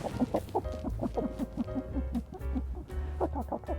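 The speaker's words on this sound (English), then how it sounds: "Come here, sweet chicken." A chicken clucks in quick, repeated bursts close by, a steady run of short hen calls with no talking over it.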